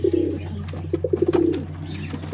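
Pigeons coo inside a loft where paired birds are nesting and sitting on eggs, a close series of low throaty rolling calls, one drawn-out phrase followed by several quick pulsing coos over a steady hum.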